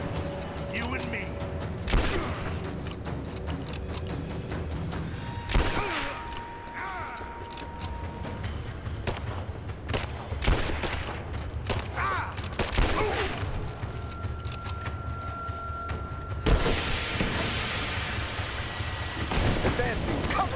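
Gunfire echoes through a Rise of the Tomb Raider survival-mode battle, with rattling volleys and scattered shots over a dense, noisy backdrop. Shouting voices come and go under the shooting throughout.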